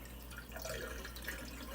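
Murky rinse water drains off washed rice, a faint soft trickle and drip of water close by.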